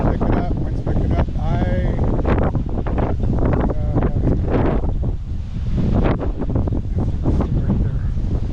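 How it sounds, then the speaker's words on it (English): Strong gusty wind buffets the microphone with loud roaring rumble during a tornado outbreak near a home, while a voice talks intermittently over the blustery noise. "wind's picking up"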